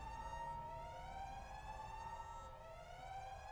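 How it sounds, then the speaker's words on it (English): An alarm siren sound effect wails steadily, loud and continuous, with a rising and falling tone that sweeps in long cycles and no pauses. "That you should hear siren."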